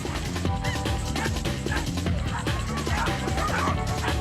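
Dogs bark and yip excitedly at a dog race, a dense, loud, continuous chorus of overlapping barks with crowd noise beneath.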